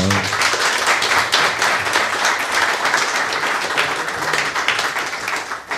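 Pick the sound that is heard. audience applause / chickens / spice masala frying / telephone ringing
audience applause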